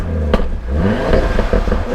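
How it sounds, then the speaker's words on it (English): Short burst of a 2019 Audi RS3 with APR Stage 2 tuning revving, a rough, throaty exhaust rising and falling with a sharp clatter early on. "I'll go ahead and give it a little bit of throttle so you can hear it."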